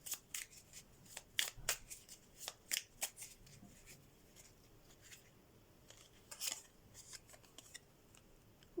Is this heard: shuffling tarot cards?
yes